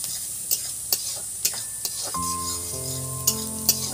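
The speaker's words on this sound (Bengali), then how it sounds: "পেঁয়াজটাকে ভালো করে নেড়ে চেড়ে নেবো" Onions being stirred in a frying pan while preparing a bitter gourd (karela) dish, with a soft sizzle under sharp periodic scrapes of a spatula against the pan and a steady tone from the stove.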